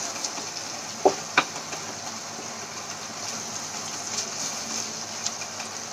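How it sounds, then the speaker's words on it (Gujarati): Flour roasting in a little oil in a pan beside a gravy, a soft steady sizzle with two sharp clicks early on and scattered faint pops. "સાઈડમાં થોડુંક તેલ છે તેમાં લોટને થોડીવાર માટે શેકી લઈશું"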